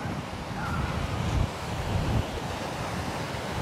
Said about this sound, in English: So the waves come in pretty good.